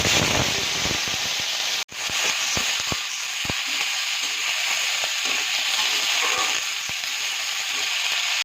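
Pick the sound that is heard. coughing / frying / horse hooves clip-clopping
frying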